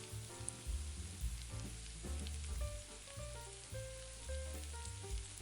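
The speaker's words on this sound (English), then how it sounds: "We want to soften the garlic and infuse the olive oil, but don't want to brown the garlic too much." Garlic sizzles gently in olive oil in a pan, a soft continuous frying crackle with light stirring scrapes, close and quiet, no voices.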